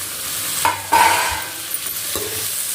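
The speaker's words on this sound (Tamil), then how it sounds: "தக்காளி நல்லா ஒரு 5 நிமிஷம் நல்லா வதங்கட்டும்" Chopped tomatoes sautéing with onion in a pan for semiya kichadi, a soft steady sizzle with a few sharp stirring scrapes from a spoon, close by and without any voices.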